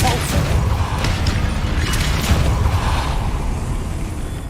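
Depulso spell cast in Hogwarts Legacy, a sustained loud rumbling, booming blast with mechanical crunching texture that stays dense for several seconds.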